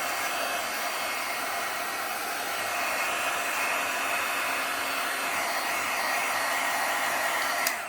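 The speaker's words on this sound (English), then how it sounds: "I don't like leaving my heat gun plugged in." A heat gun blows hot air in a loud, continuous roar that stays steady for about eight seconds, alone with no talking.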